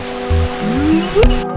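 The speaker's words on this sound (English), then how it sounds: "As soon as this rain lets up, I'm gonna get back out there" Rain falls steadily outside a front porch, a soft, even hiss close by. A single brief word from a man cuts in near the end.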